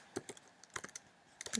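Computer keyboard typed on in short bursts of sharp clicks with brief gaps between them, quiet and close.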